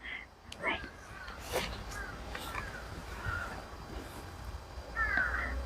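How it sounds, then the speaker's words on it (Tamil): Several crow caws ring out at moderate distance against a faint outdoor background, scattered irregularly with a louder burst near the end. "பாருங்க காக்கா சத்தம் கூட கேட்குது."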